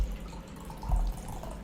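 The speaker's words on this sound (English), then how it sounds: "You can hear the coffee being poured." Coffee is poured into a cup in a steady, fairly quiet liquid stream over a low background rumble, with no talking.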